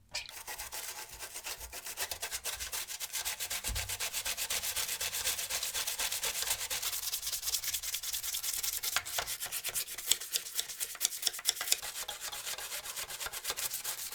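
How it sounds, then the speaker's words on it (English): Steady, dense scrubbing rasps over corroded metal plates taken from an early-1990s game console, a continuous close brushing friction with no talking. "When we're done scrubbing this"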